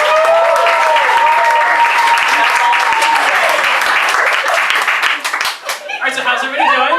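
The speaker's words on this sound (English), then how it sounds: "Can I start by getting a big round of applause for all the comics who went before me." Loud, sustained applause from a large stand-up comedy audience fills the room, with whoops and cheers, then fades as a voice begins talking.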